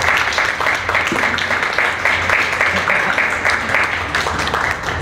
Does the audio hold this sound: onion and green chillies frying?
no